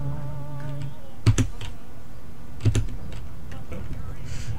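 A computer keyboard is typed on in two quick bursts of close, sharp clacks, set against steady background game sounds with a voice heard briefly.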